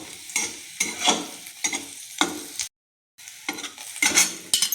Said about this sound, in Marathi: आता भाजून घ्यायचं लालसर होईस्तोवर लसूण.